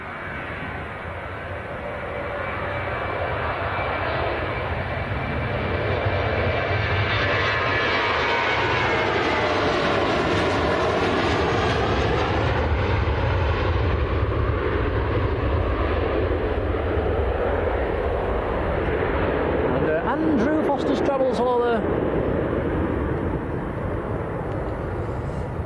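TUI airliner departing Manchester for Larnaca, a loud sustained jet engine roar with a rising and falling whine as it passes close by, continuous throughout.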